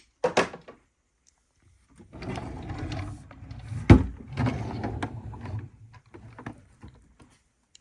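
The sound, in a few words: makeup drawer opening and closing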